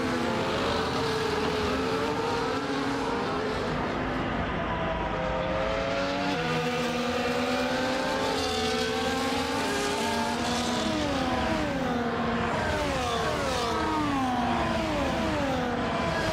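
F1 race cars scream around Monaco in a video game, several high-revving engines rising and falling through gear changes in a constant, loud, overlapping drone with no voices.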